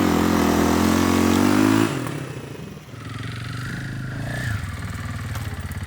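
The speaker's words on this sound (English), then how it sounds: "Shaun Olcott on the KTM 350." A KTM 350 adventure motorcycle engine runs loudly and close at a steady pitch, then drops to a lower, uneven rumble as the revs fall and pick up again.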